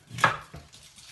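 Whole peppercorns cracked in a kitchen while cooking dim sum, one sharp crunching knock followed by a softer second hit, close and alone.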